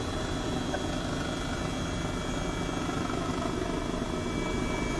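A helicopter flies near a village in Microsoft Flight Simulator 2020, its rotor making a steady whirring drone with a low, rapid thumping pulse, constant and moderately loud for the whole stretch, with no talking.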